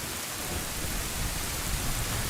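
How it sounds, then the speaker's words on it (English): Steady heavy rain pours throughout, with a low rumble of thunder beneath the hiss; a dense, continuous stormy wash with no voices, from the video game The Legend of Zelda: Ocarina of Time. "It is dark and stormy with thunder and lightning and rain commencing."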